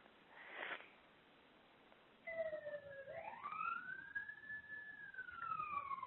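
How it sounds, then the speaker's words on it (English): A siren wails in rising and falling sweeps as it passes near a fire department, faint at first, then steady and moderately distant, with a brief sniff-like noise just before it starts. "I'm going to mute myself because we've got a siren going by"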